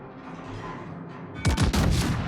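Heavy 457 mm battleship guns boom in a naval video game, with a steady low background rumble giving way to a loud cluster of several sharp blasts and impacts in quick succession near the end.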